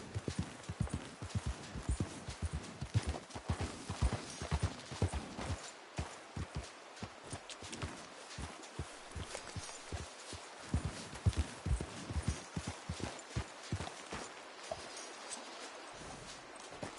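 Horse hooves clip-clop steadily in Red Dead Redemption 2, a rhythmic walking gait of close, crisp knocks continuing throughout with no talk over them.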